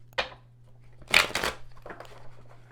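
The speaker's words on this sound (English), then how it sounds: "One more shuffle." Tarot cards being shuffled by hand during a reading: a few short riffling bursts, close and fairly quiet, with a faint steady hum beneath.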